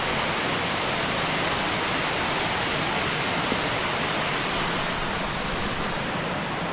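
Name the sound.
waterfall in a gorge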